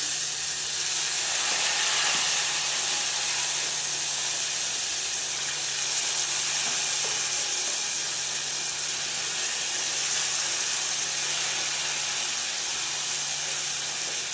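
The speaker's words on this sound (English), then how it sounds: "so we are going to transfer our meat to the oil. So we are going to cook our meat." Meat cooks in already heated oil for pilau rice, giving a constant loud hiss and sizzle that holds evenly throughout without voices.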